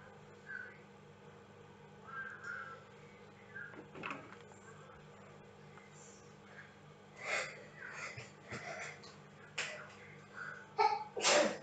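A single sharp sneeze bursts out near the end of a quiet room, after scattered soft sniffs, breaths and faint shuffling.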